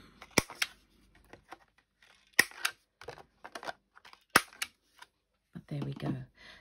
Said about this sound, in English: I'm just going to take my corner round a punch